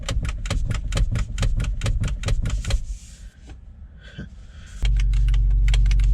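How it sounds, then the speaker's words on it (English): Rapid, evenly spaced clicking from an aftermarket steering wheel in an E46 BMW drift wagon, loud and close for about three seconds, then a quieter stretch with faint rattles before a steady low hum takes over. "It's clicking!"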